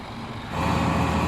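A truck engine rumbles nearby and grows louder midway as it revs up while reversing onto a pile, a steady heavy drone with no voices.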